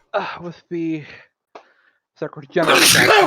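A loud, forceful sneeze bursts out close to the microphone right after a few seconds of speech.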